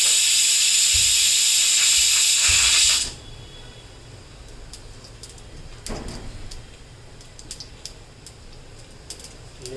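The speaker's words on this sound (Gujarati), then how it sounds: "રાઈ તતડે એટલે આપણે એક સૂકું મરચું, 2 તમાલપત્ર અને થોડા બાદિયા એડ કરી દઈએ" Mustard seeds sputtering in hot oil in a pressure cooker with dry chili and bay leaves, a loud steady hiss for about three seconds, then quieter scattered pops and crackles.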